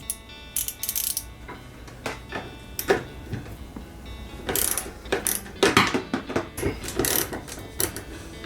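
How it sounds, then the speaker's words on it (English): Ratchet turning a bolt on a 1976 Triumph Spitfire during transmission work, a series of quick metallic clicks in short bursts with clanks of tools, close and loud, no talking. "I'm not sure if we can get a ratchet on it. We'll give her a shot."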